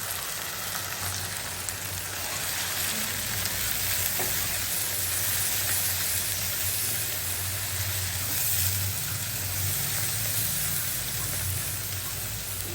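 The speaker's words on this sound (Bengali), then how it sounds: "আর এটা রসুন একটু ভাজা হোক" Garlic and cumin powder fry in hot oil in a pan, a loud steady sizzle with faint stirring that continues unbroken throughout.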